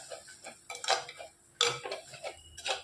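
A spoon stirs coriander powder and spices into crab curry in a pot, making faint, sparse clinks and scrapes with quiet gaps between them.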